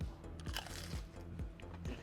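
Crunchy bites into a crispy breaded vegan nugget, several sharp crunches at a steady rhythm over low background hum.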